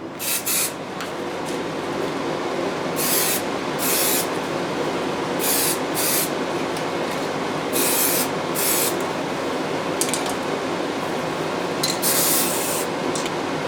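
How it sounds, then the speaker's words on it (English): Aerosol spray can applying white paint over red on a Lexan body for an Axial SCX10 Honcho RC truck, heard as repeated sharp hissing bursts of about a second each, close and fairly loud, with short pauses between passes. "I'm just going to spray a couple of coats of white over that red"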